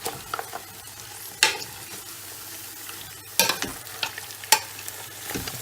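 Carrots are stirred into Afghani pulao rice in a pot, giving soft scraping and sizzling with several sharp spoon scrapes against the pot at irregular intervals, close and fairly quiet.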